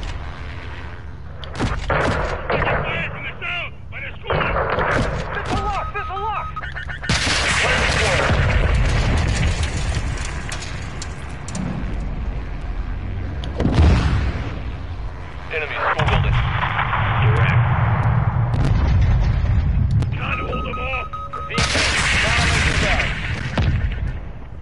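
Missile explosions and gunfire from a PS4 combat video game: loud, repeated booms and bursts of shots roll on almost without a break, with heavy low rumble and voices now and then.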